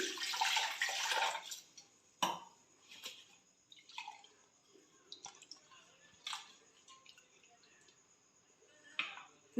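Water from a tap splashes and drips as a mixer jar is rinsed, with a rushing burst at first and then scattered quiet clinks and drips.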